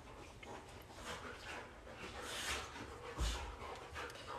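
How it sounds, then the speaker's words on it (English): Dogs play and pant in the background of a quiet room, with faint, breathy panting and small scuffles that rise and fall throughout and no talking. "You can hear my dogs are having a good time, aren't they?"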